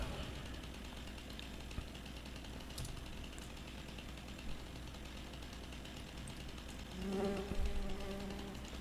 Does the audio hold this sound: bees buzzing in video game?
yes